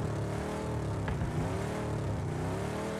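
A car driven in the battle royale video game PUBG, its engine a steady low droning hum that runs continuously at even loudness throughout the three seconds, with no voices.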